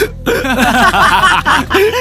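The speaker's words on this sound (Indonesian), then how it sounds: "Mereka cegukan." People hiccup repeatedly in quick, voiced little gulps that run together with snicker-like sounds, loud and close, in a short burst.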